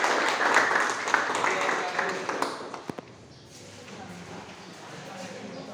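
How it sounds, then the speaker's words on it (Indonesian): A classroom group claps in applause for group 2, a burst of rapid hand claps mixed with voices that fades out after about three seconds, leaving quiet room murmur. "untuk kelompok 2 silakan beri aplaus"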